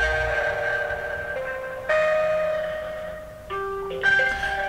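Phone call being transferred to a cell phone by a fake tender scammer's line, sustained electronic ringing tones that shift pitch in steps, steady and moderately loud with no talking.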